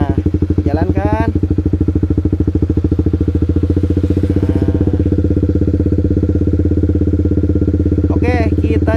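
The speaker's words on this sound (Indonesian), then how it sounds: "Kemudian lepaskan kopling pelan-pelan. Nah, tanpa digas juga, jalan." A manual-clutch motorcycle pulls away in first gear on idle alone, no throttle, its engine thumping at a steady, even beat close to the microphone, with a voice talking briefly at the start, middle and end.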